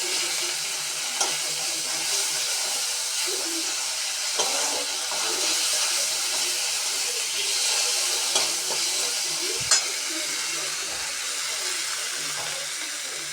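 Curry with turmeric and salt fries in a pan for an egg and soya bean curry. It gives a loud, steady sizzle with occasional scrapes and knocks of the stirring spoon, and no one speaks.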